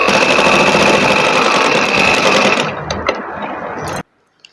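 A sewing machine runs in a steady, loud whir while stitching elastic onto fabric, then slows with a few separate clunks and stops abruptly near the end, leaving near silence.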